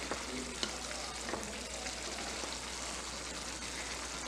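A potato and carrot curry boiling in a pan gives a steady bubbling sizzle, with a few faint stirring scrapes early on, close and continuous with no talk.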